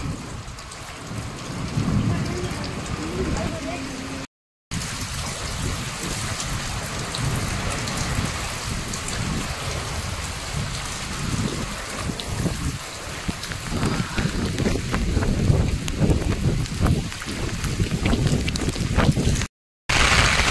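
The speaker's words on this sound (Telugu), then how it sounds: "ఈ పక్క వర్షం." Heavy rain pours steadily in a dense, loud hiss that builds slightly over time, with a faint low rumble underneath and no voices, in Tirupati.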